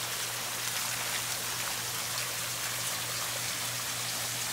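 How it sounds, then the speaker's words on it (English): Water pours steadily from a homemade waterfall built beside a Sand Pro 75-D above ground pool, a continuous close splashing and trickling rush with no talk over it. "I want to show you this waterfall that I built for my kids"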